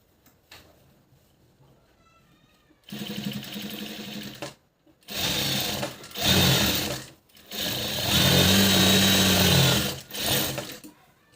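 A sewing machine stitches the puff sleeve fitting of a blouse in several short, loud bursts with brief gaps between them, close by and with no talk.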